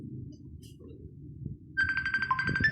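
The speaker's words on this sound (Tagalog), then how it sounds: "Ringtone natin yan." A mobile phone ringtone starts partway through, a bright repeating electronic melody playing over a murmur of background chatter during a card game.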